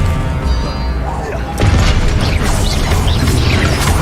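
Incendio and Expelliarmus spells are cast in the Hogwarts Legacy video game. A rumbling, mechanical texture gives way to a loud burst of crackling, booming impacts that keep going, all close and dense.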